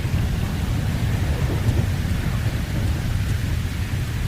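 Heavy rain roars steadily with a deep thunder rumble underneath in the video game GTA 5, a dense constant wash of noise with no clear pauses.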